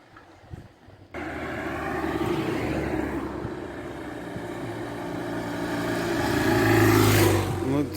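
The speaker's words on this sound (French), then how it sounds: "Moto-sécurité." A safety motorcycle passes during a cycling race, its engine building from a distant drone to a louder, closer roar with a rising then falling pitch, over outdoor wind noise.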